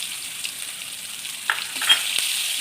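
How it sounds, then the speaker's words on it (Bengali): Sliced onion and bay leaf dropped into the hot oil left from frying fish, a soft steady sizzle with a brief louder hiss and a few crackles partway through, no voices. "এবার ওই মাছ ভাজার তেলেতে দিয়ে দেব পেঁয়াজ আর তেজপাতা ফোড়ন।"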